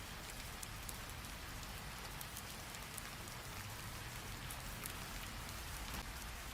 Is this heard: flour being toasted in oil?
no